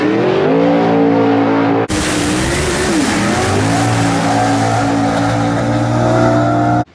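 A Mustang-style NMRA Factory Stock drag car launches down the strip, its engine roaring loud and close, breaking off abruptly for a gear change and then climbing again in pitch as it pulls hard away.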